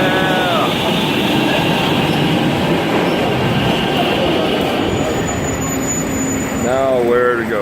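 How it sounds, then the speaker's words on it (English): A metro train rumbles loudly and steadily on a city rail line in Spain, with clattering wheels and rising metallic squeals near the end, close by and filling the whole clip. "Damn, metro."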